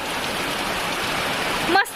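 Rain falls steadily in a village during the Bail Pola bullock festival, a continuous close hiss of water, ending with a brief sharp sound at the end.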